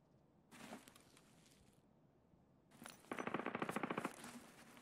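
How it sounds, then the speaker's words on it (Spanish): A suppressed MPX submachine gun fires in a video game: a short burst, a pause, then a sustained rapid automatic string of muted, clattering shots at moderate distance. "Yo creo que eso es una MPX, chabón. Silenciada."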